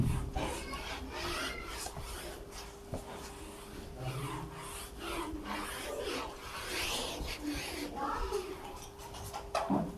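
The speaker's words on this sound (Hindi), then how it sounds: "इसके बाद मैं इसे रब करता हूं।" Duster or cloth rubbing chalk writing off a classroom board during a Class 12 maths lesson, a steady scratchy rasping that runs the whole stretch, close and moderately loud, with faint talk underneath.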